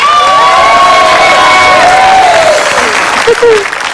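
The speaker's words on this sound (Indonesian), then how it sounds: "Saya minta tepuk tangannya dulu dong." Loud applause and cheering from a crowd fill the whole stretch, with a voice carrying over the clapping.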